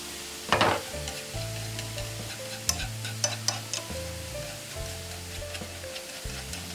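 Shallots frying in oil in a pan, a steady close sizzle with occasional scraping stirs and crackles, continuous and alone without talk.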